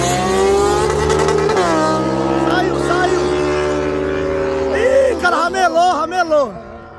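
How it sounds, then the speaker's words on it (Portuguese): Two motorcycles, a Yamaha MT-07 and a Honda Hornet, racing on a clear track: loud sustained engine drone with rising revs and gear shifts, ending in choppy bursts of throttle as it fades. "alinha as motos aí, vão sortar que a pista tá limpa"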